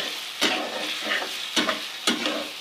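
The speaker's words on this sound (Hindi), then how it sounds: "तो अच्छे से हम आलूओं को फ्राई कर लेते हैं" Potatoes frying in a pan give off a loud, close sizzle, punctuated by three sharp stirring scrapes at roughly half-second to one-second intervals.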